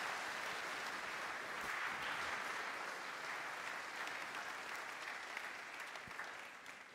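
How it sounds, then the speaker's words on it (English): A church congregation at a Catholic Sunday Mass applauds in a steady, dense wash of clapping that fills the room, sounding somewhat distant and tapering off slightly at the end. "let's give you a round of applause."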